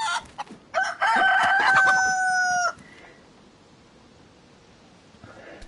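A rooster in the DayZ video game lets out one loud, close crow after a few short clucks, the call holding strong for about two seconds before cutting off into near silence.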